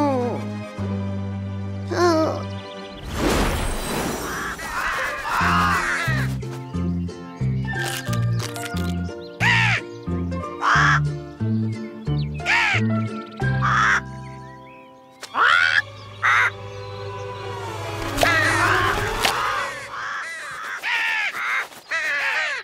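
Cartoon crows caw repeatedly in a children's animated show, the calls coming in bursts over background music with intermittent talking.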